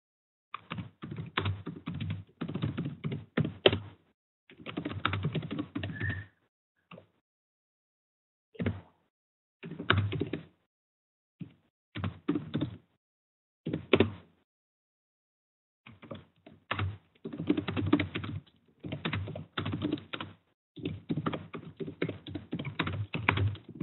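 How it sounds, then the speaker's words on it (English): Bursts of typing on a computer keyboard come close and fairly quiet, scattered across the clip with several silent pauses between runs of rapid key clicks. "Let me type in the chat box, sorry."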